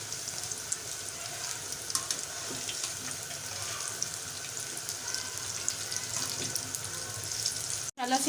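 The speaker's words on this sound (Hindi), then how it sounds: "ये देखें तो माशाल्लाह से फ्राई हो रहे हैं बहुत अच्छे से" Chicken malai pakora deep frying in hot oil gives a steady, close bubbling sizzle that stays even throughout, with a brief clatter near the end.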